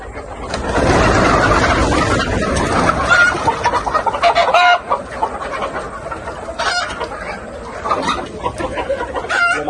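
Desi hens cluck loudly and repeatedly close by, one sitting to lay an egg, a busy, uneven chatter of several birds with a few sharper calls.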